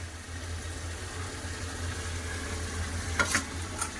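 Fried paneer cubes being sautéed with potato and spice masala in a pan, a steady low sizzle with a stove hum, then a few sharp scraping clatters of a spatula near the end.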